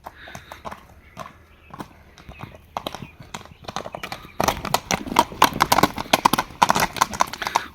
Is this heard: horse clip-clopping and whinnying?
yes